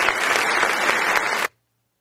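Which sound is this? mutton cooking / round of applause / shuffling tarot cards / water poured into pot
round of applause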